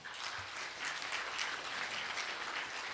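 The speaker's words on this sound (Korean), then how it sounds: "박수 좀 쳐주십시오" Steady applause from an audience at a Buddhist book-launch dharma gathering, a dense, even patter of many hands that fills the whole moment without pause.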